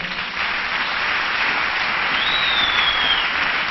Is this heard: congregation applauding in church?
yes